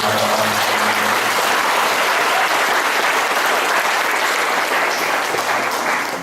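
Sustained, dense applause from a large audience at an Islamic tabligh akbar gathering marking a student organization's anniversary, loud and steady throughout with only a faint crowd murmur beneath.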